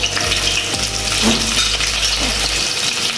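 Loud, steady sizzling of ginger garlic paste frying in a hot clay pot, a continuous crackling hiss with a few clinks and stirring scrapes, no talking.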